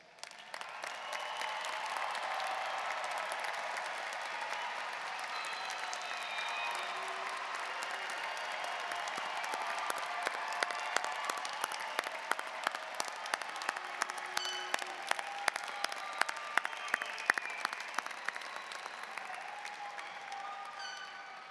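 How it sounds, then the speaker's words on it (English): Sustained audience applause for the graduating class of 2021 at a university fall commencement ceremony, a dense steady wash of clapping lasting about twenty seconds, with a few sharper claps and light cheering rising toward the end. "applause."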